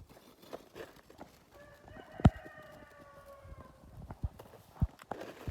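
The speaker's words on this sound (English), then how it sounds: "That's the cockerel making more chickens." A farmyard cockerel crows once, a long clear call in the middle of the clip, surrounded by scattered clucks, knocks and footstep-like thuds.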